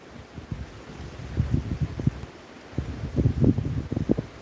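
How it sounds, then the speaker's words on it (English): Gusty wind buffets the microphone outdoors during a beehive inspection, coming in rumbling bursts that swell and fade, loud and close, with no talking. "Oh, it's so windy, I'm going to be quick here."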